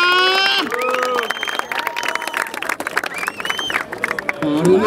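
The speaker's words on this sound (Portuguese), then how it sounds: "palmas pra batalha" A crowd at a freestyle rap battle in Barueri, São Paulo claps and cheers, rapid dense clapping with shouts rising under an MC's excited voice at the start and end.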